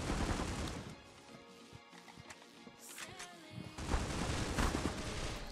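Gunfire in the mobile shooter Critical Ops, with scattered shots and bursts over a busy game soundscape, loudest near the end, some firing close and some further off.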